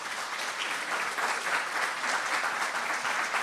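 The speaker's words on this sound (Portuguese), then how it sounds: "Vamos aplaudir Jesus, que Ele merece." Congregation applauding during a church sermon, a sustained wash of many hands clapping together, even and fairly loud throughout with no voices over it.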